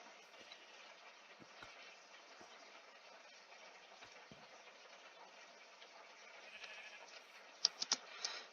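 Faint Minecraft ambience with a few short sheep bleats near the end over a quiet hum.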